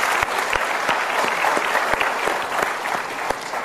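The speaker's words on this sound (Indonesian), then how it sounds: "kita berikan tepuk tangan sekali lagi untuk Mas Pepeng" Audience applause for Mas Pepeng on the Mario Teguh Golden Ways talk show: a full room of clapping hands, brisk and continuous with a few sharp individual claps standing out near the front.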